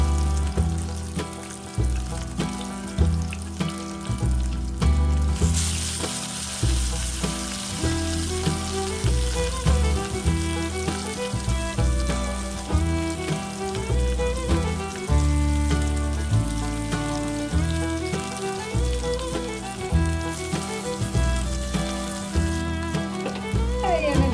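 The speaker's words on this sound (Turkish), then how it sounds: "haşlamış olduğumuz patatesleri kızartmak için diziyoruz" Steady oily sizzling of boiled potatoes frying in a pan runs throughout, mixed with background music playing over it.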